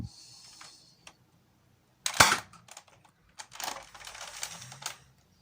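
A Nerf X-Shot Turbo Advance dart blaster fitted with an 8.5K surge fire spring is primed with a faint slide, then fires with one sharp, loud snap, followed by a burst of clattering mechanical rattles, close up with no talk.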